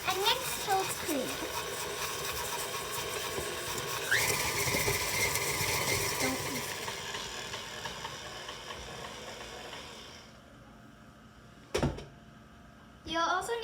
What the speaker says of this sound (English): You should lock the mixer and mix till it's clean.